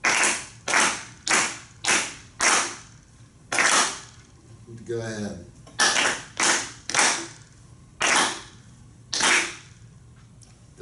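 Music students clap a simple rhythm of quarter and half notes together, sharp group claps in a steady pulse with longer gaps for the held notes, close and clear, and a brief spoken word partway through.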